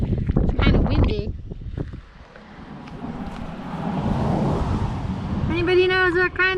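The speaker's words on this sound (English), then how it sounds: "It's kind of windy." Wind blowing outdoors on a Nova Scotia outing, a broad rushing gust building and buffeting the microphone, with people talking at the start and end.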